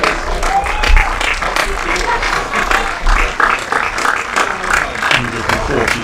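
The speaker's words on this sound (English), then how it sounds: "I'll let you listen to that applause." Crowd at a cricket ground during an Under-19 India vs England one-day international applauds a batsman leaving the field, a steady, dense spread of clapping with commentary voices running over it throughout.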